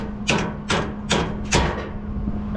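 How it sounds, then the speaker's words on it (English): Four sharp, evenly spaced hammer taps on the metal parts of a trailer jack, striking close and loud over a steady low hum. "Make sure to use your hammer."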